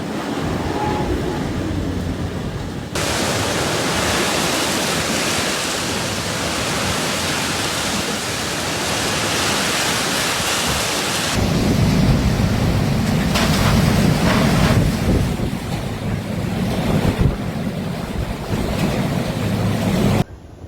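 Typhoon Bavi brings heavy rain and gusty winds across Rota and Guam, heard as a continuous, loud, roaring wash of wind and rain with surging gusts.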